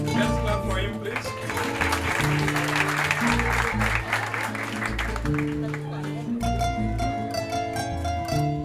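An audience applauds a graduating refugee student at a refugee-camp ceremony for a Regis University diploma, steady clapping that swells mid-way, blended with loud background music and a singing voice.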